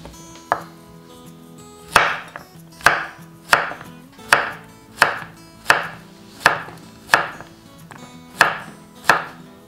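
A knife chops Korean zucchini on a cutting board while vegetables are prepped for tteokbokki, about nine crisp, evenly spaced knocks, close and clear, with no talking.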